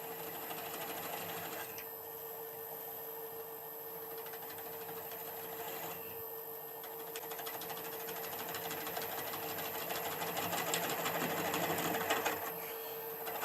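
Wood lathe running at low speed while a ring tool cuts across the bottom of a hollowed hole, giving a steady whirring hum with a continuous scraping, chattering cut that swells toward the end, close and fairly loud.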